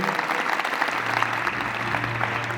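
A crowd claps together at a gurukul school event before a revered swami speaks, steady, lively applause with a low hum beneath it.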